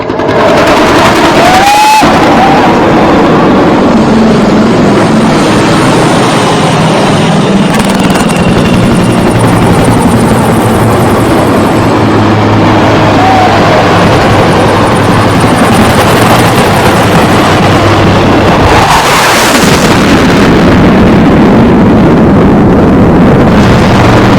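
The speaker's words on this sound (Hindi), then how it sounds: "ये फाइटर हेलीकॉप्टर्स" Indian Air Force fighter helicopters flying over Guwahati, Assam, with a loud, continuous rotor and engine roar that holds throughout, swelling with brief gusts of wind buffeting.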